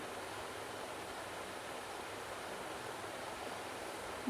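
Water is poured steadily over rice to wash it, making an even rushing splash that runs unbroken for about four seconds, with no voices.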